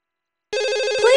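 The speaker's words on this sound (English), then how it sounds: "Please answer the phone." A Fisher-Price toddler toy telephone rings with a loud, steady electronic warble that begins abruptly after a short silence. It ends in a rising tone.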